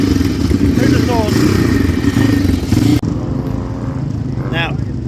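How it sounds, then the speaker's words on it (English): Honda CX500 motorcycle racing at a vintage and classic hillclimb, a loud, steady engine drone throughout with a brief rising rev near the end, heard under continuous voices. "Wow, CX500 racing."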